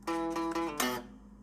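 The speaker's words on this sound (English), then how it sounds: "So the first lick in this riff sounds like this." A brief electric guitar lick from a riff: a few quick repeated notes, then a pull-off phrase that fades out, played solo and close.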